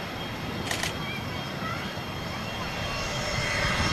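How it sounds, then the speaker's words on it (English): A brand-new Pilatus PC-24 business jet arriving at Manchester Airport from Malaga, a steady distant engine roar under outdoor ambience, with a camera shutter burst near the start. "PC-24, a brand new, only a couple of months old aircraft in from Malaga"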